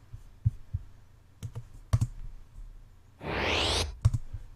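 Scattered keyboard clicks, then a rising whooshing swell of a reverse transition sound effect that builds for half a second and cuts off abruptly.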